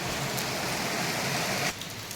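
Heavy rain pouring steadily as dense, even hiss, loud and close, easing slightly in the last half second.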